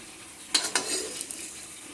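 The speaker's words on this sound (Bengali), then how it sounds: "এভাবে আমি সবকটা বড়া ভেজে তুলে নিচ্ছি" Fritters frying in a pan make a quiet background sizzle, with a couple of brisk scrapes and clinks of a utensil lifting them out.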